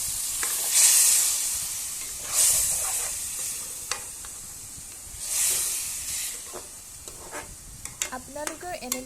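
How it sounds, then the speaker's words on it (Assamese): Banana flower frying in a pan, with sharp hissing sizzle bursts that swell and fade as it is stirred, and scraping stir noises close by toward the end. "এয়া মোৰ কলডিলখিনি ফ্ৰাই হৈ গৈছে।"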